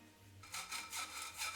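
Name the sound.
sifting flour, cocoa powder, baking powder and salt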